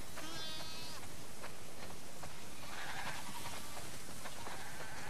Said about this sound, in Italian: Wow, sono tantissime pecore.